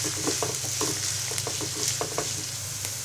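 Chopped onion, garlic and slit green chilies sizzle steadily in a pan, a dense continuous frying hiss broken by frequent stirring scrapes, close and fairly loud with no talking.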